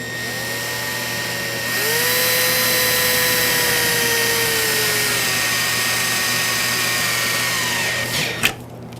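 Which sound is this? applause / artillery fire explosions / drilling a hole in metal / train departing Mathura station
drilling a hole in metal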